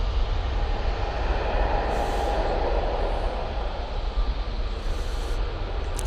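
An EasyJet Airbus A321neo departs from Manchester Airport for Malta, a constant heavy engine roar with a low rumble, close and steady for the whole six seconds.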